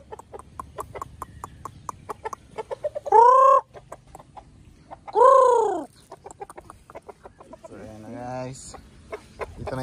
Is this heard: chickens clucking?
yes